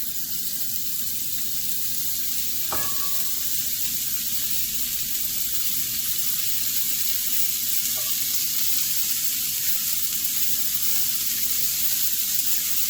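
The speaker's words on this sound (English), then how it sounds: "So I'm going to start dropping them all into my skillet." Pork breakfast sausage patties sizzle steadily in a skillet, a continuous close frying hiss with a brief clink near the start.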